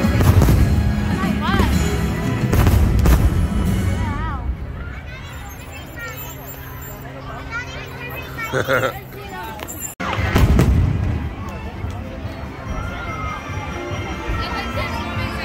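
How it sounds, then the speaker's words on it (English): Fireworks at Disney's Magic Kingdom boom in a series of deep bursts and crackles, mixed with a chattering crowd nearby while people talk and laugh close to the microphone. "And we got fireworks for you."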